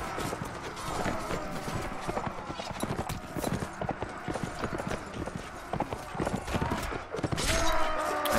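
Hooves of a riderless horse clip-clopping in the Mount & Blade Warband Imperial Rome mod, dense and steady amid battle clatter and game noise, with someone talking over it.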